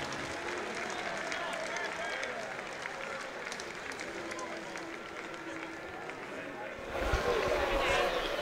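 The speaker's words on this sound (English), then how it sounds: "a round of applause for your runner-up, Rungrat Satyaprapa." Crowd at a boxing event in Birmingham clapping for the runner-up, a dense, moderately loud wash of applause that swells near the end, with an announcer's voice over it.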